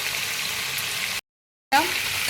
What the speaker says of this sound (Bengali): সেই টমেটো বাটাটা দিয়ে দিচ্ছি। একটু ভালো করে আমি কষিয়ে নেব